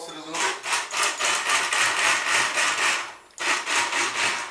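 A blender whirs in a series of short, regular pulses while making a smoothie, about ten quick bursts with a brief pause before the last few.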